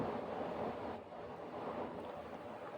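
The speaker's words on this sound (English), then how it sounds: "The wind just kicked up from nowhere." Strong wind gusts outdoors in the aftermath of Hurricane Helene, a steady, faint broadband rush that swells and dips slightly, heard alone without voices.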